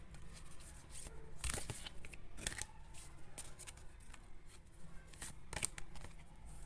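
Tarot cards shuffle and get drawn from the deck in a quiet room, soft papery riffles with a few sharp snaps and slaps, faint and close.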